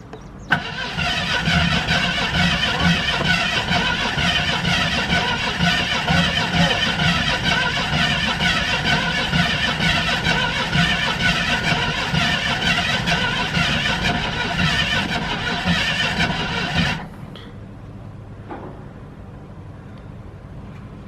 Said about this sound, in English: get in there when it cranks and try to kick choke off